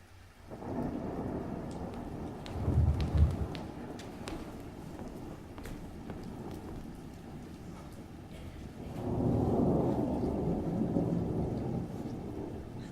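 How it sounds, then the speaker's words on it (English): Rain falls steadily in a thunderstorm while low rolling thunder swells twice, once early and again in a longer rumble later, with no voices. "The storm was coming, and nobody was ready for it."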